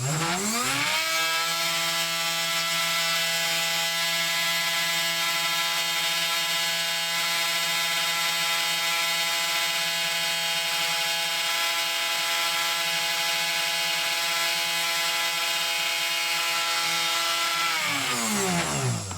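A Woodpecker 3018 CNC upgrade spindle motor winds up and spins at over 20,000 RPM, a loud sustained high-pitched whine with strong harmonics, ramping up at the start and winding down at the end.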